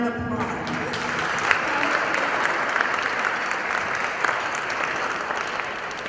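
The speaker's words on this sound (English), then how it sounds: "Let's give Solange another round of applause." Applause at a Hispanic Heritage breakfast awards event fills the room with a dense, sustained wash of clapping from the audience, steady and fairly loud, with a brief voice near the start.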